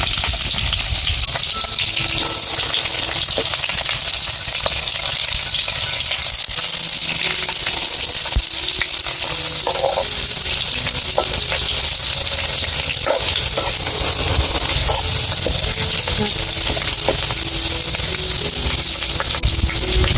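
Garlic, curry leaves and bay leaf sizzle and fry in hot oil for dry chicken, a loud, continuous crackle with occasional stirring scrapes and no talk.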